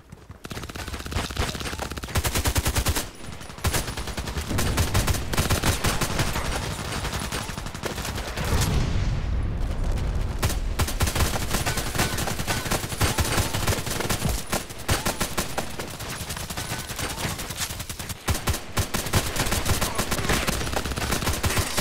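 Gunfire in a shooter video game with an HK417 rifle: sustained dense rapid shots and bursts for over twenty seconds, loud and continuous with only brief gaps.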